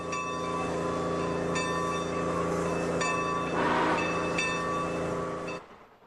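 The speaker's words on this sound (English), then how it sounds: "The skunk is the nickname of a tourist train that begins in Fort Bragg and goes inland through a second growth redwood forest." California Western Railroad Skunk tourist train running inland from Fort Bragg through redwood forest, a loud steady rumble with a sustained horn-like tone, then a sharp cutoff near the end.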